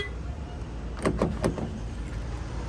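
Quick mechanical clunks of a Hyundai Sonata's door locks engaging from the door handle button, a short burst of three or four clicks against a faint steady background hum.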